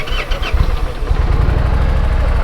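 An Indian Challenger motorcycle engine cranks over and catches, settling into a loud, deep, steady rumble close by.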